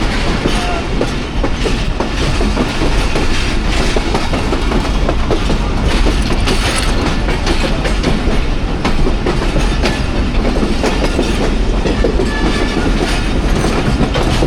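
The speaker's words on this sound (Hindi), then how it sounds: "वज़ीराबाद जंक्शन पे अप्रोच बना रही है 46 डाउन पाकिस्तान एक्सप्रेस" The 46 Down Pakistan Express runs toward Wazirabad Junction on an early, rainy morning, with a loud, continuous rumble and rhythmic clickety-clack of wheels on rails heard from onboard throughout.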